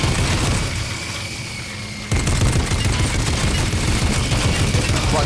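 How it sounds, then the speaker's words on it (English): Dense gunfire and blasts from a Fortnite battle royale match in which an armored battle bus is in play, a loud continuous barrage of rapid shots that thickens sharply partway through and keeps rattling to the end. "who the fuck is shooting"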